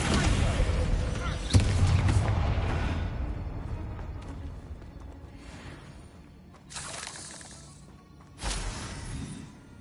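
Spell-casting effects from a Hogwarts video game, Descendo and Confringo blasts, sound as sudden heavy booms and crashes at a few points over a steady rumbling bed, the first and last bursts loudest and close.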